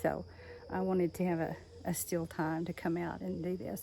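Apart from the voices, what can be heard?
cicadas buzzing outdoors in Texas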